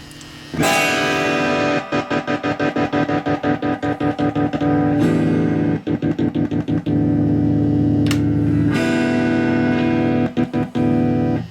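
Distorted chords on a 2014 Epiphone SG Special electric guitar, strummed in a choppy, rhythmic pattern, loud and gritty, with brief stops between bursts.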